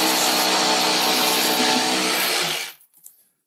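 Jigsaw with a basic blade cutting through wood, a loud continuous buzzing whine lasting about two and a half seconds before stopping abruptly, followed by a few faint clatters.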